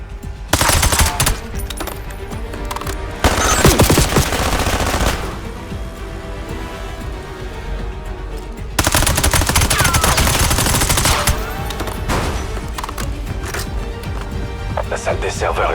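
Rapid bursts of machine-gun fire and scattered gunshots in a war action film, loud and dense, arriving in heavy volleys separated by quieter stretches, with speech mixed in.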